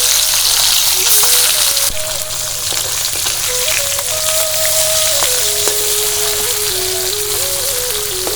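Chitol fish frying in hot oil gives a steady, dense sizzle with rain-like crackle that runs unbroken throughout. A faint tonal whine wanders underneath, and nobody speaks.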